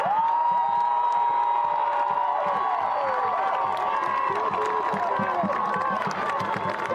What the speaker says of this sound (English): an eruption of applause and cheers